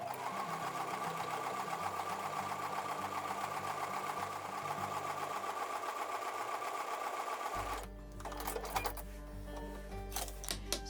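A sewing machine stitches a Honeymoon quilt block along a drawn line in a steady, continuous run that fills most of the clip, then stops abruptly and gives way to soft handling clicks and rustles.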